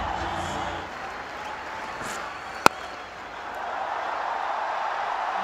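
A cricket crowd at a one-day international applauds a batsman's milestone, broad sustained clapping and crowd noise at a distance, interrupted by one sharp crack midway, with commentary over it.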